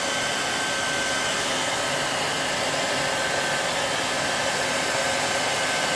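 A hair dryer blows on its high heat and air setting with a loud, steady whooshing roar. The sound holds unchanged and close for all six seconds, with a faint whine over the rush and no voices.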